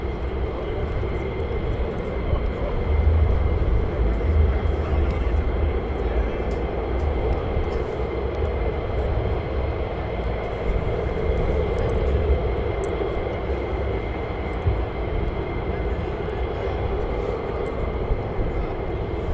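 Fighter jets taxiing at RAF Lakenheath, a steady, loud broadband engine roar and whine holding throughout, fairly close and continuous, with no talk over it.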